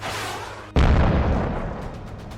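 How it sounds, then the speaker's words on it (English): A loud, close explosion effect for a Death Guard demon engine destroyed in a Warhammer 40K tabletop battle. One sudden booming blast follows a quieter rumble and then rolls off slowly into a long rumbling tail. "The devastating assault results in a putrid explosion"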